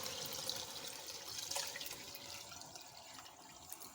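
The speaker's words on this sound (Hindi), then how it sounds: "अब मैं इसमें दूध डाल रही हूँ।" Fresh milk, about three kilograms, is poured into a cooking pot of carrots for gajar ka halwa, giving a soft, steady trickle and splash that stays faint throughout.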